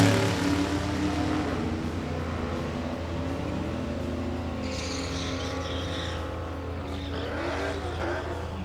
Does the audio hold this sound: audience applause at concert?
no